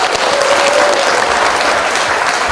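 An audience at a community concert event gives sustained, loud applause, a dense wash of clapping hands continuing evenly throughout.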